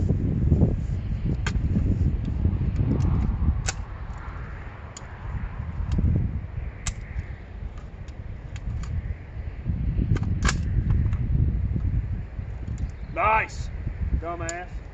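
A PSA 10.5 firearm fires during shooting drills, with sharp single shots spaced a second or more apart against steady wind and rustling outdoor noise.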